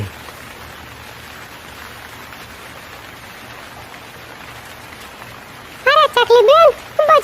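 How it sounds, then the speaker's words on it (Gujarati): A soft, steady hiss of rain fills the background. Near the end, a voice begins talking over it. "આવતા આવતા વરસાદ ચાલુ થઈ ગયો"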